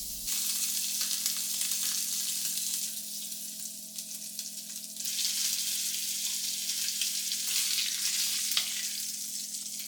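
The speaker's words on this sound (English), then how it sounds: "flip the breast onto the meat side and give it a light browning on the base and edges" Duck breast sizzling steadily in a hot pan, meat side down after the fat side has browned, a loud continuous close-up crackle and hiss with no talking.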